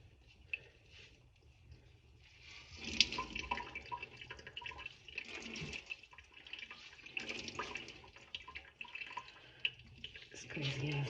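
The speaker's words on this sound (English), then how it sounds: "I'm just going to drain the water out now, and using the side of the sink I'm just going to squeeze out" Water drains from a sink and trickles and splashes as a wet handwoven scarf is squeezed against the sink's edge, faint and uneven with intermittent drips and small gurgles.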